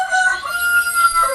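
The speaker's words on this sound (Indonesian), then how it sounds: "Nah tuh ayam ikut nyaut Pak Gubernur." A rooster crows once, close and clear, in a single drawn-out call.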